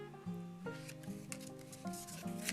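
A knife saws through the thick cardboard spine of a kitchen box in a series of short, faint scraping and rasping strokes, close up and quiet, with no speech.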